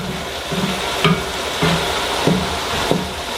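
A spoon stirs spices into homestyle chili in a pot, making several soft, evenly spaced scrapes and knocks over a gentle steady sizzle.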